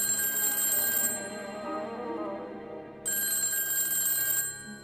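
A telephone bell rings in an animated football series, with two bursts of bright, continuous trilling separated by a short gap, clear and close with no talk.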